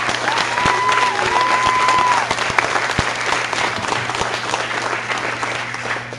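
A school audience applauds the accompanist, steady clapping sustained throughout and slowly fading, with a faint tonal whistle-like sound early on.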